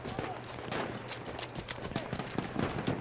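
Battlefield 1 team deathmatch in foggy Argonne Forest: rapid crackling gunshots and bursts of bullets, moderately distant and fairly quiet, scattered across the moment with a voice talking over them.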